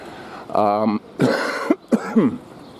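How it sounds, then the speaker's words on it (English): A few short coughs and throat-clearing sounds, close and fairly loud, with a brief voiced sound among them. "I am still a little bit ill, so I will be coughing occasionally."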